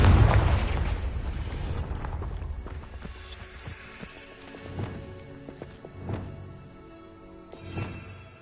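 A Confringo blasting spell in the Hogwarts Legacy video game explodes with a loud boom that fades slowly, followed by several softer thumps and pops spaced out over a quiet game background.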